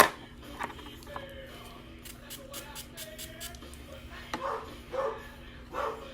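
A loud dog barks a few times from somewhere in a house, the short sharp barks sounding distant and coming in a small cluster, while faint household clatter and a quiet voice carry on in the room.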